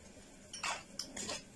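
Coriander, parsley, garlic and salt are pounded in a mortar for a Moroccan tagine, giving two quick clinking knocks close by, short and hard with no talk.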